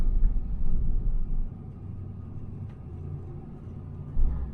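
A minivan's engine runs as it drives, a steady low rumble with heavier surges at the start and again near the end, close and fairly loud with no voices.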